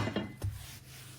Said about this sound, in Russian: Вот, вытираю.